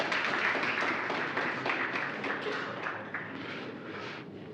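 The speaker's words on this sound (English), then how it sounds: "big hand clap as she comes" A festival audience applauds to welcome a panel moderator on stage, a steady wash of many hands clapping at once, loud at first and easing off slightly toward the end.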